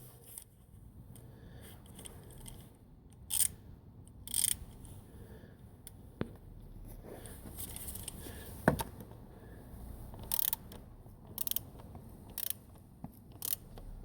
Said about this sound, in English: we take our 15mm socket and tighten this nut